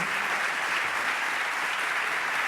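Continuous audience applause at a European Statistics Day 2024 gathering: an unbroken, even patter of many hands clapping at a steady moderate level throughout, with no voices.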